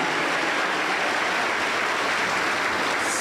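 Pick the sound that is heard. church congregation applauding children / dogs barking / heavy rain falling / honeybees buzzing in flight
church congregation applauding children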